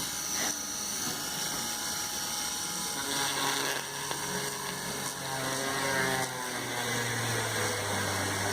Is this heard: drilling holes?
yes